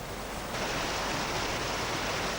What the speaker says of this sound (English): On the River Usk, there are often many sections where the waves will break over the boat